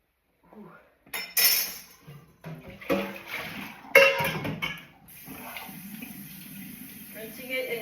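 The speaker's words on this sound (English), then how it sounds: "Rinsing it in cold water." Tea-dyed napkins are rinsed under cold running tap water, with splashing, dripping and a few light clinks over a steady stream of flow.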